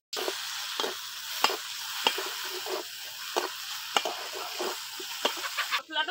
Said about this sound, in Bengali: ভাজা করতে করতে দেখা তেল বেরোবে